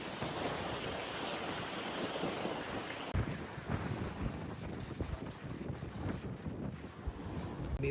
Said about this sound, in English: So windy as well.